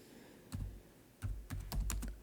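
Close keystrokes on a computer keyboard during a slide-editing session: a few isolated clicks, then a faster cluster of taps near the end, with no talking.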